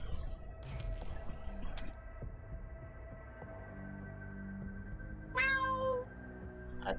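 A cat wearing a hat in Wasteland 3 lets out a drawn-out meow near the end, clear over a low steady game ambience, with a shorter mew earlier.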